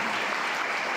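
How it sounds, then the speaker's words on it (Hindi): An audience claps to welcome a speaker at a Hindi lecture event, dense and steady applause from a crowd filling the whole moment. "एक बार जोरदार तालियां बजा करके आप"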